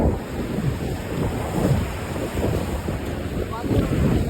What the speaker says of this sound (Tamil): இப்போ பாருங்கள் நான் அலையை காட்டுறேன்